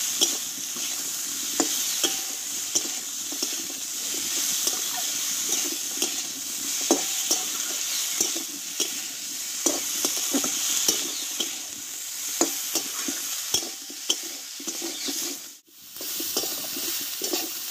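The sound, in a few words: spices, potato and drumstick being stir-fried in a pan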